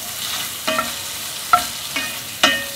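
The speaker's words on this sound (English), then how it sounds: "I'm going to stir fry around a couple of minutes until pork is no longer pink" Pork being stir-fried in a pan, a steady sizzle broken by several sharp scrapes and clanks of the utensil against the pan at irregular intervals, close and clear.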